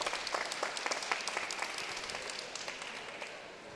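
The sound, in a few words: loud applause from Texas supporters at table tennis match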